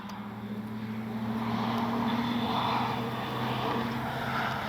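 An FMS 1400mm F4U Corsair RC warbird taking off without flaps, its electric motor and propeller whining steadily and rising slightly in loudness as it climbs away outdoors.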